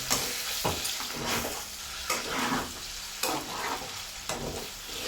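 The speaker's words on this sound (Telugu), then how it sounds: "మనకు బంగాళదుంపలు చక్కగా వేగిపోయాయి" Potatoes fry in a pan while a spoon stirs them, a close sizzle pulsing with about five scraping strokes and light knocks against the pan, no speech.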